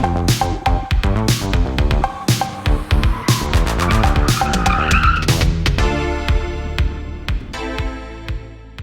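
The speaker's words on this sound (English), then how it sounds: "Right up until I get blitzed by a BMW M5." BMW M5 from the mid-1980s blasting past at speed, a loud, dense roar with rising engine pitch and a brief tire-like screech near the middle, then fading slightly as it moves away.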